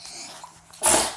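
A single loud sneeze bursts out abruptly near the end, following a stretch of quiet room tone.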